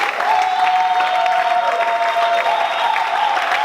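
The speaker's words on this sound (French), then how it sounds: "Donnez-moi de bonnes acclamations" A large French-speaking gathering applauds: a dense, continuous roar of clapping with a faint tonal voice or instrument line running through it, steady and loud for nearly four seconds.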